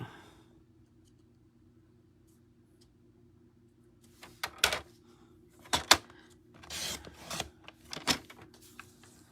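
A paper trimmer blade slices through stacked cardstock pieces, a few short sharp swipes and clicks up close after a quiet stretch, with no talk.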